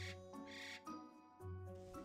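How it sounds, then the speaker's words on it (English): Cutscene from a warrior-class PC video game with a creature hooting and calling in repeated owl-like bursts, fairly loud and clear over a tonal musical backdrop, with no talking. "Look at this ugly bird."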